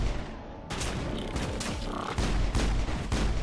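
Gunfire in Mass Effect as a pistol and other weapons shoot during combat on the beacon mission, sharp repeated cracking shots in quick irregular bursts, fairly loud and close.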